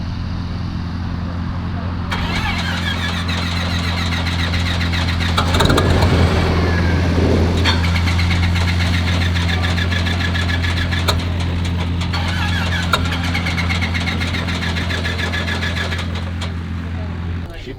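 A Cessna Skylane 182T's Lycoming piston engine cranks and fires up with a burst, then settles into a steady droning idle, close by, with a voice speaking intermittently.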